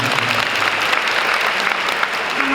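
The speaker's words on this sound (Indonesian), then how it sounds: "Tepuk tangan dulu." Steady applause from a church congregation during a sermon, dense and continuous throughout with a faint voice briefly audible beneath it.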